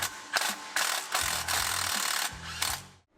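Ratchet clicking in short bursts while a bolt on the alternator bracket of a 1968 GMC truck is tightened, several close, loud runs of ratcheting separated by brief pauses.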